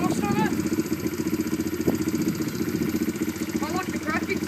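A 125cc pit bike with a big aftermarket exhaust idles loudly and steadily close by, its uneven rumble running throughout while voices and background chatter carry on over it.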